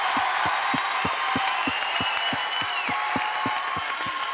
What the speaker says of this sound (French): Je voudrais, s'il vous plaît, que vous applaudissiez une fois encore tous nos amis qui sont ici